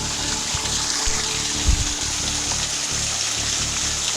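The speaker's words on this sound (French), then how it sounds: "C'est vraiment une cascade." A waterfall cascading inside the Nok caves in Togo, a continuous rushing wash of water with a low rumble and a brief splashy surge midway.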